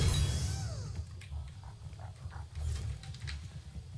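Wild boar in the Fortnite video game, heard as rough grunting and snuffling mixed with low rumbling game noise and clicks, moderately loud and continuous without speech.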